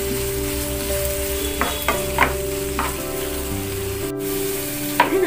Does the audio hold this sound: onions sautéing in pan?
yes